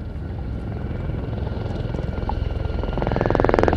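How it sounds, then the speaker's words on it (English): Gazelle helicopters of a UK civilian display team fly at the 2024 Cosford airshow, their steady rotor drone and rapid blade chop building louder and closer toward the end. "They're the only civilian helicopter display team in the UK at present"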